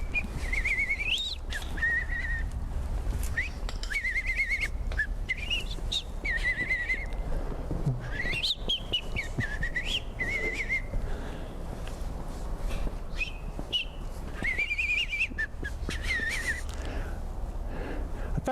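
A person whistles a melodic tune in bright, wavering phrases, with steady low background rumble throughout and no talking.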